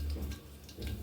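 Cumin seeds sizzling in hot oil in a home kitchen, the start of a Marathi-style chawli (cowpea) leaf curry; a steady, close, crackling hiss with soft popping bursts and no talking.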